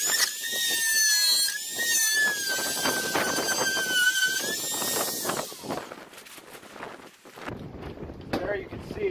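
A guided-tip router bit traces the inside edge of a freshly drilled hole in cargo trailer wall paneling, giving a loud, close, high-pitched whine and squeal that holds for several seconds, then drops away into quieter handling noise.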